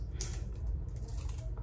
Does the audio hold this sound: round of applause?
no